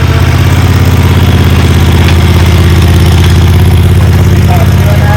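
A commercial walk-behind zero turn mower engine runs loud and close with a steady, throbbing low rumble while the machine turns, and someone talks over it.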